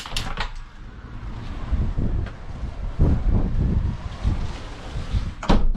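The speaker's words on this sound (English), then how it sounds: "It's extremely windy today, which is a little bit unusual." Strong gusts on a penthouse balcony in Antwerp, Belgium, buffet the microphone in uneven loud surges, with sharp thumps and rattles of a door or fittings scattered throughout.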